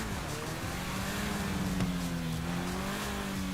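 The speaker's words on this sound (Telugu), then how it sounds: "సౌండ్ కూడా బాగుంది కార్ సౌండ్" Car engine revving in GTA V gameplay, a loud, steady drone whose pitch rises and falls as the engine winds up, heard alone without talking.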